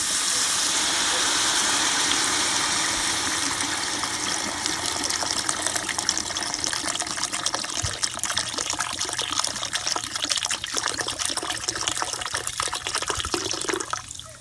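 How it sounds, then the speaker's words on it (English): Water pours and gushes into a pot holding a pig head, a continuous splashing fill that grows slightly more broken and trickling toward the end, with no voices. "here I'm going to add my water."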